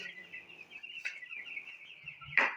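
Broiler chickens in a poultry house give a steady, thin high cheeping chorus, with a brief rustle around the middle and a louder burst near the end as the bedding litter is turned with a stick.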